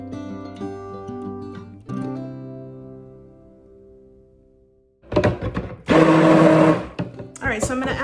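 A blender whirs through goat milk soap batter for a Mardi Gras inspired batch, starting after soft musical tones and running in loud, uneven bursts with short pauses and changes in pitch.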